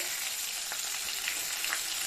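A fish head fries in hot oil in a pan, a dense, steady sizzle with faint crackles throughout, close and continuous with no voices.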